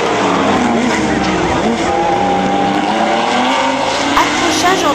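Race cars at the 24 Hours of Le Mans scream past at full throttle in a dense, continuous roar, with rising and falling engine whines and a brief tire squeal, while a voice speaks over the noise.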